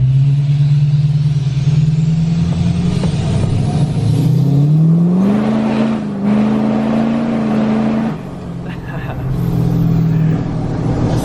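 Tuned and deleted 2020 Duramax diesel pickup truck engine revving up loudly and close, a deep throaty roar rising in pitch, holding, then dipping and climbing again.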